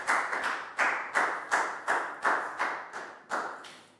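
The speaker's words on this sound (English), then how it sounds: "High five and a big round of applause for Lakgao." Hands clap in a classroom to cheer a student, about ten sharp, evenly spaced claps, close and loud, with no talking.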